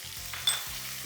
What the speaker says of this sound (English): Sliced garlic again. We don't want to burn the garlic, so cook until fragrant.